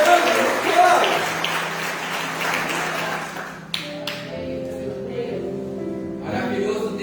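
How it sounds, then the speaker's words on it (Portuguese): A church congregation applauds in a dense, fairly loud burst that lasts a few seconds. It then thins out into quieter scattered taps over sustained musical tones. "Então eu quero que você aplaude ao Senhor"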